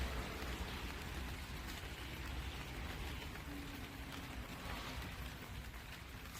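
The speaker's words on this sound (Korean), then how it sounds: "빗방울이 소리가 좋죠. 빗소리." Steady rain falls throughout on a succulent greenhouse, a soft continuous patter of drops on a surface with a faint low rumble underneath.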